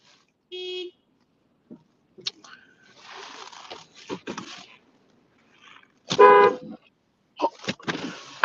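A car horn sounds outside near a parking spot, one short beep among scattered rustling, clunks and brief voices talking, with a louder honk later.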